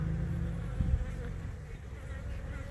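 Honeybees buzz steadily at a bee farm in California's Inland Empire, a close, continuous low drone that swells slightly near the start and holds without any voices.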